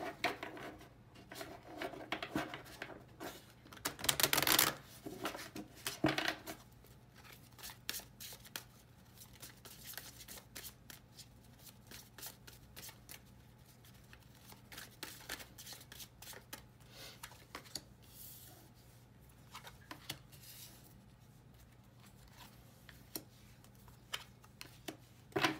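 Oracle cards shuffled by hand for a tarot-style soulmate reading, a soft dense riffle of card edges with a louder burst early on, then steady faint flicking and tapping with no talk.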